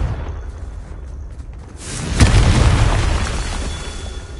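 Confringo blasting spell exploding in the Hogwarts Legacy video game: a sudden loud boom about two seconds in, followed by a sustained rumbling roar that fills the rest of the moment.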